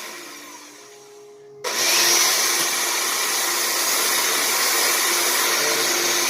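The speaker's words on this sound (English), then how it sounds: "I'm going to start whisking with this, and I'm going to go on high" An electric mixer whisks egg whites on high for a lemon meringue pie, switching on abruptly after a quiet start and holding a loud, steady whirring drone close by.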